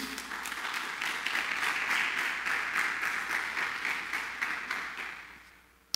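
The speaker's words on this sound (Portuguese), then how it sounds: "Você pode dar um aplauso ao Senhor aí?" A church congregation claps in applause, a dense, even wash of many hands that swells and then tapers away over about six seconds.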